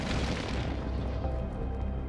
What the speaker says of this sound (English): Oh, I downed one with the airstrike.